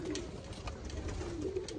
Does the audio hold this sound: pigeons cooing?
yes